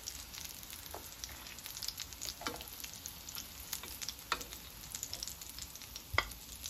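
Mutton gola kababs fry in oil over a slow flame with a steady, soft sizzle. Occasional small pops and clicks punctuate it, and no one speaks.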